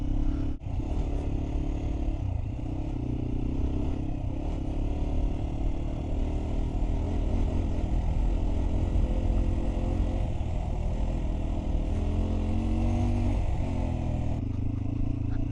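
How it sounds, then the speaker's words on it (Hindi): A motorcycle rumbles continuously while riding a rough off-road mountain track in Skardu's Rganostor Valley, with steady engine drone mixed with scraping and clattering from the rocky surface, fairly constant in level throughout. "इस ट्रैक पे कंप्लीट ऑफ रोड से ही आप बाइक को भगा सकते हैं, वरना ये देखें मेरी बाइक भी डोल रही है"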